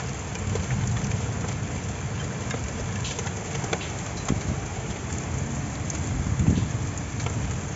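Heavy rain pouring steadily during a big storm at home, a dense close hiss of drops hitting surfaces with scattered louder spatters and faint low rumbles, continuous throughout with no talk.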